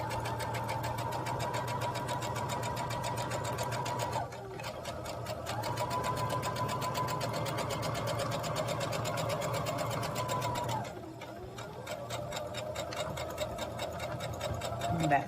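A sewing machine runs a back stitch on a jacket, its steady close whir and needle chatter continuing with two short pauses where the direction reverses.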